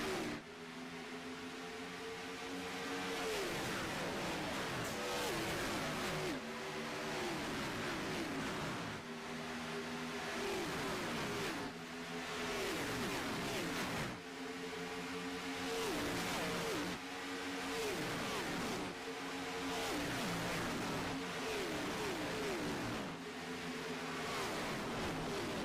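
Virtual Cup Series stock cars roar off at the green flag at Las Vegas in a racing video game, a loud continuous engine drone that repeatedly rises in pitch with each upshift, alone without talk.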